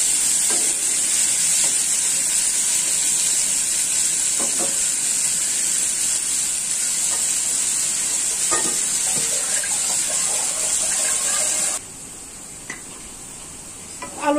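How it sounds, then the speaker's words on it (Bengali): Potato pieces frying in a pan give a continuous bright sizzle with a few soft stirring clicks, close and loud, then the hiss drops sharply near the end as if the heat or lid changes. "আলুটি লাল ভাজা হইতে থাক।"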